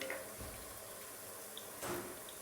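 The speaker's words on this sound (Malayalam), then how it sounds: "ഞാൻ 2 കപ്പ് വെള്ളമാണ് ഒഴിച്ച് കൊടുക്കുന്നത്." Water poured from a cup into a cooking pan for semiya noodles, a soft steady splashing stream with a brief louder pour near the end, heard alone.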